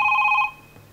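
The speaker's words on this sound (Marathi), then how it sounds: "फोन फोन आलेला आहे" A telephone ring on a Marathi comedy show stage, a steady electronic trill sounding clearly for about half a second before cutting off, leaving quiet background.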